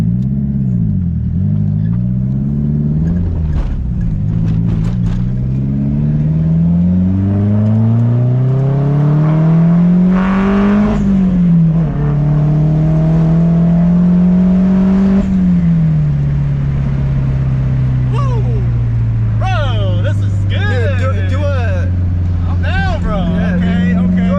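A JDM car's engine revving during a clutch kick, loud and close, its pitch climbing and falling in repeated sweeps with a sharp rev spike midway, while people talk inside the car.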